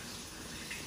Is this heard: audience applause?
no